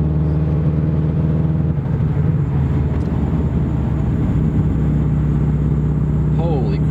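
A Subaru with a badly worn clutch runs and drives, its engine a loud, steady, close droning rumble with a constant hum, as people talk over it.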